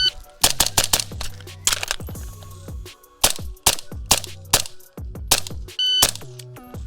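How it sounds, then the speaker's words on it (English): Live gunfire from a crew shooting drill, sharp close shots in quick irregular bursts with brief pauses and metallic rings between them, loud and near. "Let's go ahead and run this live and see what the actual time is after we put some rounds down range."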